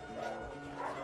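A very old dog barks softly in a room of an old family house on Salina, Italy. The bark is brief, faint and muffled in a low, steady room hum.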